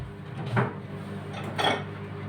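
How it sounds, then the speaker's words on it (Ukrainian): Ceramic plates clink against each other twice, brief ceramic knocks over a steady background hum. "Нічого, беру наступну тарілку."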